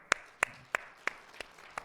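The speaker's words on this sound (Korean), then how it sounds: "옆 사람 축복하면서 박수 한번 합시다." A church congregation claps during a Sunday service while blessing their neighbours: six crisp, evenly spaced claps, fairly faint and quick, with nothing else around them.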